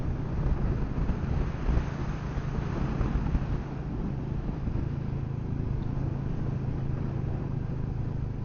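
Wind buffets the microphone while riding a Royal Enfield Meteor 350 motorcycle on an open road, a constant low rushing roar that fills the whole stretch, steady and loud with no voices.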